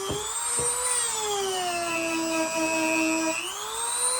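A Dremel rotary tool cleaning a knife blade during a restoration gives a close, steady high-pitched whine that dips slightly in pitch under load and rises again, with no talking.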